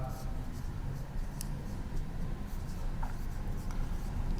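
Marker scratching steadily across a board during a Hindi chemistry lesson on periodicity and noble gases, continuous close squeaky strokes with brief pauses, no talk over it.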